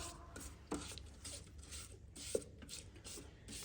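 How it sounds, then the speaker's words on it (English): A spatula scrapes chocolate cake batter around the edges of a mixing bowl, a soft rasping rub with a couple of sharper knocks against the bowl, close and moderately quiet with no talking. "And now let's give it another scrape around the edges."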